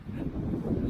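Cold wind blowing outdoors in Belarus, a steady low rumbling gust buffeting the microphone for under a second with no other sounds.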